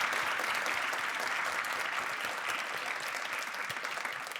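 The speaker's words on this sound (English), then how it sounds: "Can we get a round of applause for Michael Greer?" An audience at an arts talk applauds steadily, a dense wash of many hands clapping close and loud throughout, tapering slightly at the end with no voices.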